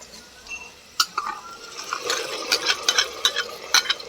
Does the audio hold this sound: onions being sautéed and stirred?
yes